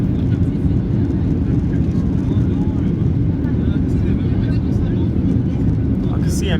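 Cabin roar inside a Ryanair Boeing 737-800 climbing out after takeoff from Stansted, a loud steady broadband rumble of engines and airflow that holds constant throughout, with no talk rising above it.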